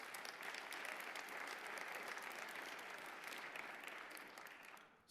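Audience applause at a city judges' swearing-in ceremony, a steady, fairly distant wash of clapping that holds evenly and then tapers off near the end.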